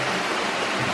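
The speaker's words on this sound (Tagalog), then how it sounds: "level 3 di ay level 3 Peace Waterfalls" Peace Waterfalls, level 3, in Boljoon, Cebu, rushes as a steady, close, broadband roar of falling water, continuous and without voices.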